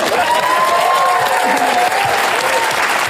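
Studio audience applause on a television comedy panel show, steady and loud throughout, with a faint voice briefly audible above the dense clapping.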